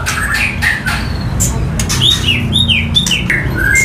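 Young male oriental magpie-robin, about two and a half months old, calling: bright chirps and rising-falling whistles repeated, fairly close, with faint background chatter.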